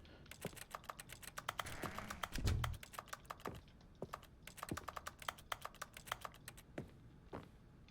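Keyboard typing in The Stanley Parable video game: rapid, close clicking keystrokes in irregular bursts with short pauses, loud and crisp with no talk over it.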